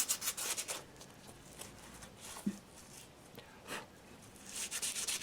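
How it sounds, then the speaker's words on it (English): Soft, scratchy rubbing in irregular bursts as Milliput filler is sanded off a Royal Copenhagen porcelain bulldog, quiet and close, with pauses between strokes and a livelier flurry of strokes at the end. "I'm sanding off the remaining"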